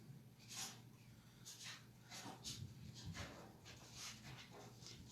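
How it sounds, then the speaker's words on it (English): A small dog snorting and sniffing up close, with short breathy puffs and soft whimpery snuffles repeating irregularly over a quiet background. "I hear a small dog coming."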